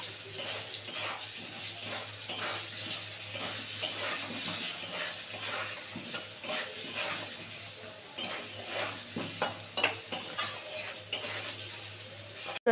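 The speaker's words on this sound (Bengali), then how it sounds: "আলুটা খুব সুন্দর করে লাল করে ভেজে নেব" Potatoes sizzle and fry in a pan with salt and turmeric as they are stirred, a steady close frying hiss broken by frequent scraping and clinking of a utensil against the pan, with no talking.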